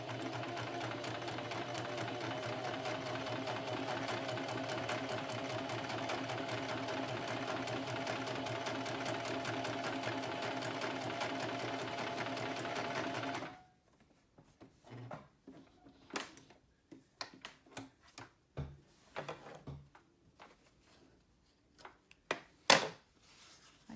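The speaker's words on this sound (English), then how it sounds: "just let the sewing machine do the work and your hands guide the direction of the fabric" A sewing machine stitches fabric for a face mask in a steady, even run of rapid mechanical clatter for about thirteen seconds, then stops abruptly, followed by scattered quiet clicks and handling sounds.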